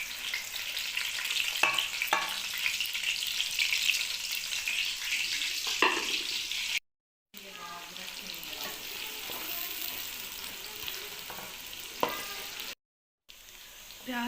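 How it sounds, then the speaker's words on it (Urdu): Onions browning in oil in a pan for aloo gobhi, a steady close sizzle and crackle with occasional stirring scrapes, briefly cutting out twice. "پھر اس کے اندر ڈالیں گے پیاز کو کریں گے تھوڑی دیر براؤن۔"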